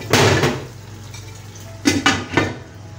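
A metal lid is set onto a cooking pot on the stove while a beef korma masala fries: a loud clatter at the start, then three sharper clanks of metal on metal close by, with no talking.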